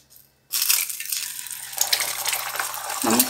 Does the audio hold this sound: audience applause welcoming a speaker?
no